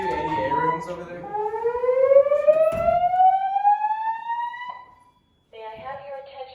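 Building fire alarm sounding in a college dormitory during an alarm test: a loud rising siren-like tone sweeping upward for several seconds, cutting off briefly, then a steady pulsing alarm tone resuming.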